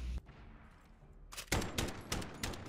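Rapid bursts of gunfire in the video game Modern Warfare, several sharp, loud shots in a quick cluster after a quieter stretch, heard up close.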